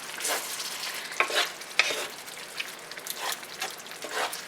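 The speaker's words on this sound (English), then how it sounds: "Let me get this mixed together." Ratatouille vegetables with canned tomatoes, salt and pepper get stirred in a hot pan, giving a steady close sizzle broken by scraping swishes and a couple of sharp utensil knocks, with no talking.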